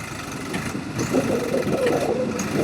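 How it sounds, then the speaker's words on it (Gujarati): A Swaraj tractor engine straining to pull another stuck tractor free, a steady mid-pitched diesel drone that rises and roughens partway through, loud and close with no clear talk. "હવે જોઈએ ખાલી ટ્રેક્ટર ખેંચી શકશે કે નહીં"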